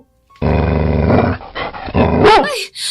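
A dog growls and snarls angrily, loud and close, in rough sustained bursts with brief pauses and a sharper yelp-like burst near the end.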